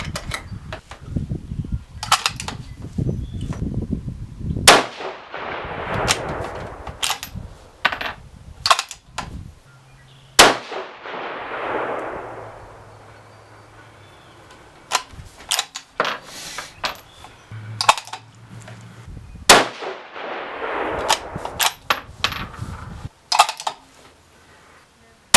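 A 6GT rifle fires Berger 108 bullets at a 200-yard range, giving a few sharp, loud cracks spaced several seconds apart, each trailing off in a brief decay, amid handling clatter and clicks.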